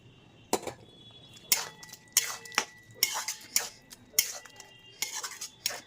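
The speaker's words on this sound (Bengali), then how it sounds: "এইবারে বেশ কিছুটা ধনেপাতা কুচি দিয়ে দেবো, আর সঙ্গে দিয়ে দেবো এই চিংড়ি মাছগুলো" Chopped coriander and prawns going into a pan of cooking prawn curry, a run of sharp metal clinks and scraping clatters from a utensil against the pan, close and irregular over a quiet background, with no talking.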